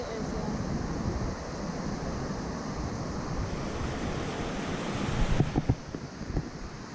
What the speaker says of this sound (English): Here, you can see the river going.